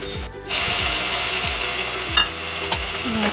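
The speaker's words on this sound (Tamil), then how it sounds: "ஒரு வெங்காயம் போட்டு நல்லா வதக்கிக்கணும்." Onion sautéing in a pan for Andhra-style amaranth greens dal, a steady close sizzle with repeated scraping stirs of a spoon against the pan, no talking.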